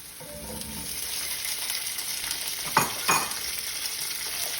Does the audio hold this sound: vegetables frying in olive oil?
yes